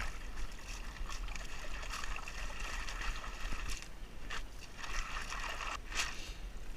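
Water sloshing and splashing steadily as it is pushed by hand into a sluice box during gold panning, a continuous rushing wash with occasional brighter splashes, no talk.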